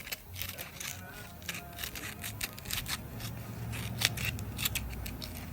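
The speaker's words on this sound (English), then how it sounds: "So I use the curved tin snips" Curved tin snips cut through sandpaper close by, making a quiet series of crisp snipping crunches in an uneven rhythm, each cut a short rasping bite.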